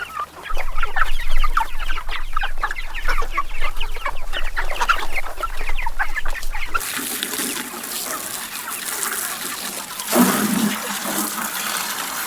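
Chickens in a box at a farm, clucking and shuffling in a steady busy chorus close by, then quieter rustling with a few softer clucks.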